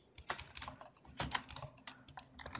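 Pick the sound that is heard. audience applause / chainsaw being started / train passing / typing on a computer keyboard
typing on a computer keyboard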